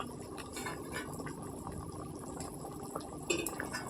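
Puti fish curry (tel jhal) bubbling in a pot, a steady soft boil with a brief louder splash or plop near the end, close and continuous with no talk.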